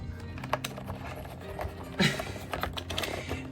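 Typing on a new Y2K-style keyboard matched to a blue Mac on a home-office desk gives a run of close, crisp key clicks with a slightly heavier thock near the middle.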